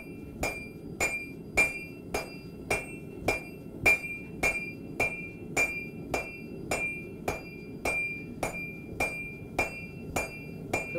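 A hammer strikes a Kanka anvil in a bladesmithing forge. The ringing metallic blows come close and evenly spaced, about one and a half per second, with no talking.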